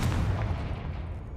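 A Confringo fire-blast spell explodes in the Hogwarts Legacy video game, a single loud, close booming burst with a heavy low-end thump that rumbles and decays over a second or so.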